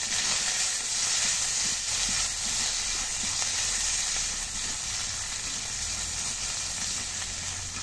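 Cumin seeds sizzle in hot oil in a pan, a steady bright hiss that fills the whole stretch at an even, fairly loud level.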